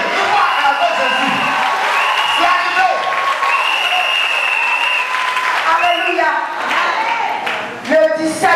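A church congregation claps and cheers for Jesus, steady dense applause with shouts and voices running throughout, swelling again near the end.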